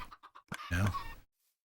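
A chicken in a video game redstone machine gives a few short clucks followed by a longer squawk, close and clear, then silence.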